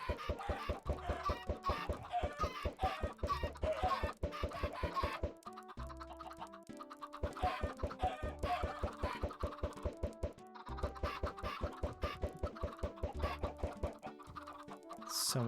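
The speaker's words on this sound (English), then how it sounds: "So many chickens, which is perfect." Chickens in the video game Minecraft cluck repeatedly in a rapid, busy stream over steady background game music, with several birds overlapping throughout.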